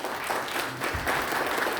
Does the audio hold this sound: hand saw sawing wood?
no